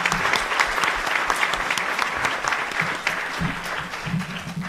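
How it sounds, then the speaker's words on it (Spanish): Sustained applause from a seated audience at a community panel seminar, a continuous rattle of many hands at moderate distance, with a few voices faintly audible underneath. "Un aplauso, por favor."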